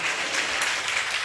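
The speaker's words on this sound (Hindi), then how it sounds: "जोर से ताली बजा करके प्रभु को धन्यवाद देते हैं" A church congregation claps loudly together in praise of the Lord, a dense, steady wash of many hands lasting the whole moment with no voices on top.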